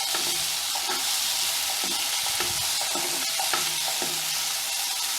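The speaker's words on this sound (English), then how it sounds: "mix and stir" Tomato and green chilies fry in a pan with a steady sizzle, while a utensil stirs them in repeated scraping strokes, close and even throughout.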